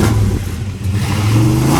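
A Dodge Coronet 440 car engine revs up and holds a deep, rising growl, loud and close, with a steady rumble underneath.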